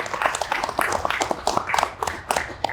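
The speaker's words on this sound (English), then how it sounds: "Let's give him a nice round of applause." An audience applauds at a football team announcement press conference in Morristown, with a short burst of fairly quiet, brisk clapping from a modest crowd.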